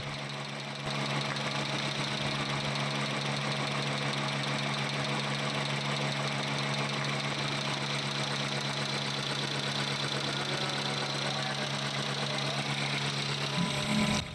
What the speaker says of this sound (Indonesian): Kita cek langsung saat fan kipas nyala.